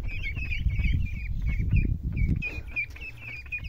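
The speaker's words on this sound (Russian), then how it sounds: "Нашим уткам 2 недели." Two-week-old ducklings on their first outing onto grass, giving a steady run of high, repeated peeping calls close by over low rustling and handling noise.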